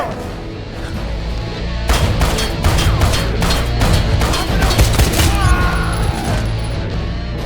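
Dense bursts of gunfire in the Wanted: Weapons of Fate video game, rapid loud shots crackling over a constant action backdrop with a brief quiet lead-in, no talking.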